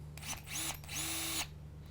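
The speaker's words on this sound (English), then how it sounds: "I take my drill, because I do a lot of work with hex bolts and nuts" A power drill driving hex bolts on a steering wheel hub whirs in short bursts, two quick spins then a longer steady run, close by over a low background hum.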